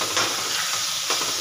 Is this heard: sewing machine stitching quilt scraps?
no